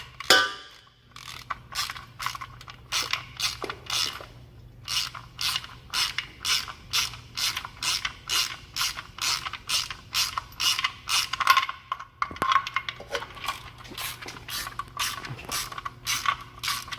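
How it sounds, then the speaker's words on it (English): Ratchet clicking steadily as it tightens a car's oil drain plug during an oil change, a fast run of sharp, even clicks in bursts with brief pauses, close and alone with no talk. "tighten back up your drain plug all the way on with your ratchet"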